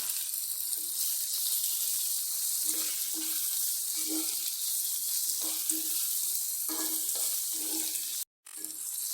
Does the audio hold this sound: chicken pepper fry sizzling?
yes